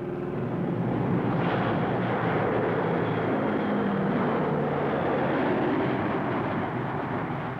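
Continuous heavy drone of military transport aircraft such as the C-130 Hercules, C-123 Provider and C-7 Caribou flying over during a paratrooper drop, a loud, steady, rumbling roar that stays level throughout.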